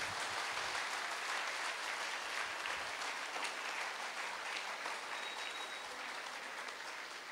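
Sustained applause from an audience at a lecture on happiness, a dense, steady wash of many hands clapping that carries on throughout and eases off slightly near the end.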